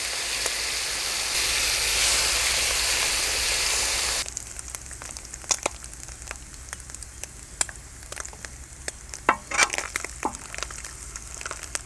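Frying in a clay pot for Kerala-style prawn roast: a loud, dense sizzling hiss for about four seconds, then a quieter stretch of scattered pops and crackles.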